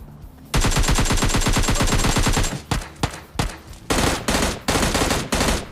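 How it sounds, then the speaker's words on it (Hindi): Automatic gunfire from a computer-controlled bot in a battle royale video game: a sustained rapid burst for about two seconds, then several shorter separate bursts, loud and close with no talking. "अच्छा, तो सही में ही बॉट फायर कर रहा था।"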